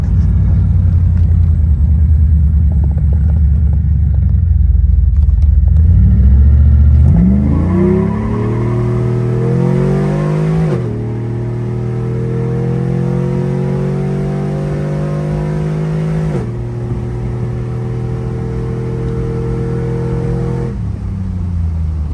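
A 2WD-swapped GMC Yukon Denali truck engine revs loud and close, climbing in pitch through several gear changes with sharp drops between shifts, alone with no talk.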